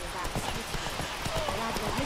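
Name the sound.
horse Roach's hooves in the video game The Witcher 3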